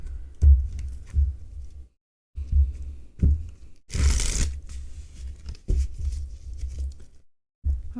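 Several short bursts of riffling and shuffling tarot cards, separated by brief pauses, close up and fairly soft.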